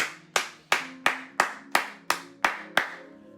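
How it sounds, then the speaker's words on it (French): Sharp, evenly spaced hand claps ring out about nine times in a steady rhythm, close and clear, during a church prayer gathering. "Acclame très fort pour le Seigneur."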